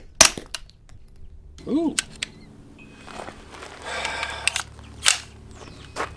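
Springfield Kuna pistol firing at steel targets, a few sharp cracks spaced irregularly across the stretch, with a brief voice exclamation in between.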